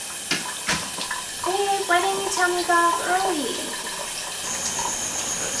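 A shower runs as a steady hiss of falling water, close and continuous, while a voice talks over it in the foreground.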